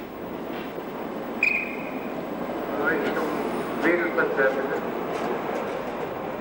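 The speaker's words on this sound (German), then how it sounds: "Fünfzig Einsatzjahre haben die Züge der Baureihe 471 bereits hinter sich." A Hamburg S-Bahn class 471 electric train, a fifty-year-old third-rail unit, gives a moderate rolling rumble with a short tonal squeal and a few whining tones rising from the running noise.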